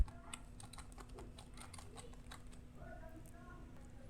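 Fingers type quickly on a computer keyboard, entering a plugin name into a WordPress search bar. The keystrokes are faint, rapid and irregular over a low steady hum.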